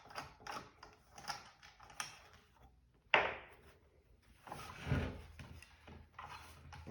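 A wrench loosens the blade nut on a circular saw during a camper build, producing close metallic ratcheting clicks and clunks in irregular bursts.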